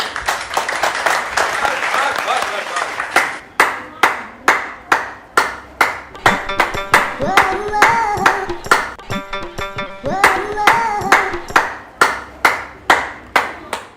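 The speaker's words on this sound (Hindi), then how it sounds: "हमारी पुलिस की टीम को तो ताली बजाइए सबके लिए।" A crowd gives applause for a police team in rhythmic, evenly spaced group claps, loud and close, while voices talk and a high ringing tone sounds briefly in the middle.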